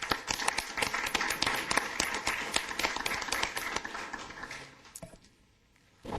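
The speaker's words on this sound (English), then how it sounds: "I just want to give our economic development team a round of applause" Council meeting audience applauding the economic development team, a steady patter of many hands clapping nearby that fades out near the end before a brief sound returns.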